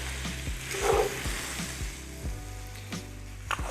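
Onions sizzle in a pan for French onion soup, a steady low crackle broken by a series of scraping knocks as they are stirred at irregular intervals, quiet and close.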